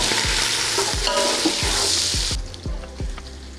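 Chopped onions hiss and sizzle in hot oil in a large cooking pot, with repeated scraping stirs from a utensil every half second or so, loud and close, with no talk.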